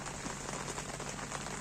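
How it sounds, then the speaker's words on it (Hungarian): Heavy rain pours down steadily during a carp fishing trip, a dense, even hiss of drops hitting surfaces, unbroken and fairly close throughout. "És így szakad az eső."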